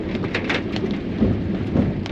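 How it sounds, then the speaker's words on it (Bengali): Heavy rain pours down around a moving car, a dense steady roar with low rumbling underneath and a few brighter splashes, with no one talking. "যখন এই ধরনের বৃষ্টি হচ্ছে, প্রচণ্ড বৃষ্টি"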